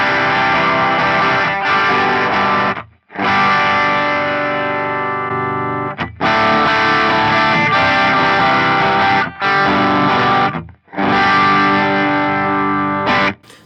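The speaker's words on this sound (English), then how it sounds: "this is the T8, this is a tube screamer that we have in here" Sustained overdriven electric guitar chords through an Axe-Fx III T808 Tube Screamer model ring out in long held phrases separated by brief gaps, loud and close with a thick, saturated tone.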